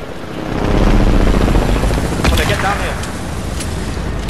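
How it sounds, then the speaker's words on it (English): A helicopter passes overhead above a house, its broad rotor rumble swelling and holding steady, loud and close, with a voice talking faintly over it. "There's a helicopter above us."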